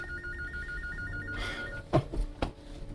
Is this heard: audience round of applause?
no